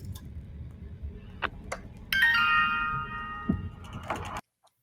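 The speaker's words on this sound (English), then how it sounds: "That's the sound of the mirror box, Jack in the Box from the first film." Music-box style tune from a jack-in-the-box mirror box used in The Conjuring horror films, faint ticks and chimes leading into a bright tinkling melody that rings for a couple of seconds before cutting off abruptly.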